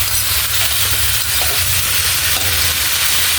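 Sayote simmering with coconut milk in a pan is stirred steadily, the spoon scraping under a continuous loud sizzle and bubbling, with a low rumbling hum underneath throughout.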